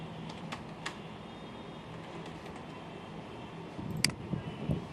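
Keys on a computer keyboard tapped sparsely as text is entered, faint over a steady background hiss, with a slightly busier cluster of clicks near the end.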